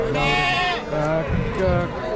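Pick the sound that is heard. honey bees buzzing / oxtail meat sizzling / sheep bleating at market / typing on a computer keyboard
sheep bleating at market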